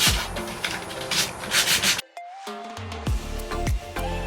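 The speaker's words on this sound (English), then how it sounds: "I'm going to hand sand the rest of the legs just a little bit" Hand sanding wooden bar stool legs makes about two seconds of dense, rhythmic scratchy strokes, close and fairly loud. It cuts off abruptly and gives way to quieter knocks and clatter.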